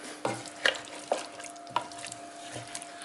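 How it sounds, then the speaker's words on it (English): A spoon stirs fresh garden herbs into oxtail in a pot, giving several distinct scraping, clinking strokes at an uneven rhythm over a soft, quiet background sizzle. "Give it a stir up"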